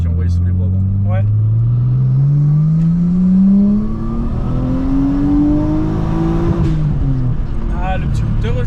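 A Nissan Skyline R34 GTT with an RB25 engine revs up close, its note climbing steadily and strongly, then easing off, while people talk over the engine.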